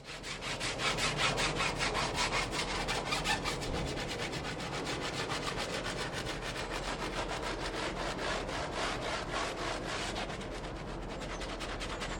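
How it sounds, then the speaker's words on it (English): Tyres get scrubbed with foam cleaner and a brush in quick, rhythmic back-and-forth strokes, a steady close-up rasping scrub with no pauses. "it's important to thoroughly scrub them like this until the foam doesn't discolour anymore"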